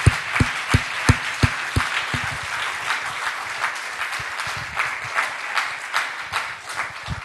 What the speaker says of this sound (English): I think they deserve a good end of applause,